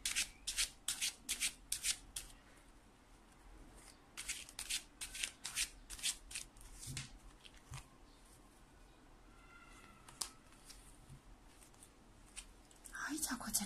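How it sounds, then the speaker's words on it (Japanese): Lenormand fortune-telling cards are shuffled close to the microphone in quick riffling bursts, tapering into softer rubbing and sliding, while a quiet voice talks over part of it. "2人のね、要になるカードをこちら、ルノルマンカードからね、まず選んでいきたいと思います。"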